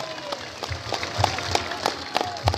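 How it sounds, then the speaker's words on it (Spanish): A crowd at a coca growers' rally in Chapare applauds to welcome a union leader, a moderate patter of clapping with rhythmic accented claps and voices mixed in. "Con un fuerte aplauso recibimos al dirigente Policarpio"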